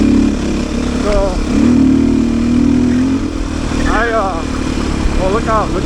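A Beta 500 RS dirt bike engine drones steadily while being ridden on a foggy trail, its low hum running continuously beneath someone talking.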